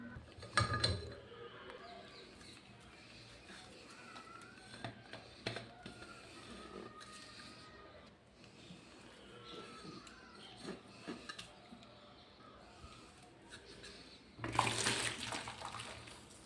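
Water sloshing and rattling inside a tea bottle, shaken steadily for a minute to clean out its smell, with intermittent splashy bursts, plus a loud rush of running water as dirty, foamy water pours out near the end.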